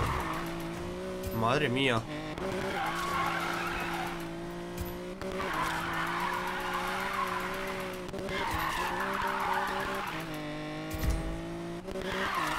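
Tyres skid and squeal continuously as a car drifts through a drift zone in Need for Speed Payback, with engine roar throughout and someone talking excitedly over it.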